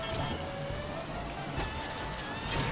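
Steady rain effect from a kart racing video game, a continuous even hiss of falling rain that stays loud throughout with no break.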